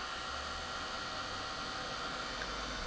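A hair dryer runs steadily on a yellow-colored background of an Easter coloring page, a continuous whooshing hiss with low hum, alone and unbroken throughout.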